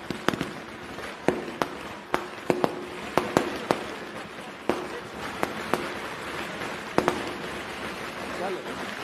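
Firecrackers going off behind a political rally in Latur, a rapid irregular string of sharp bangs popping over and over, some loud and close, under a speaker's voice addressing the crowd.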